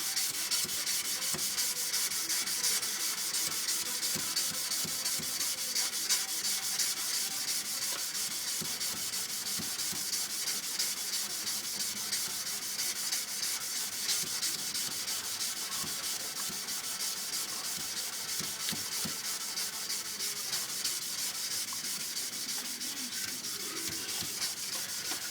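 Hand sanding a knife blade with abrasive paper, a steady, faint, continuous scratchy rubbing with repeated back-and-forth strokes and no voices.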